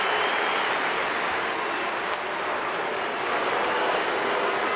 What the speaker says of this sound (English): Mark Loretta gets a round of applause and from his teammates as he comes back to the dugout after that clutch base hit.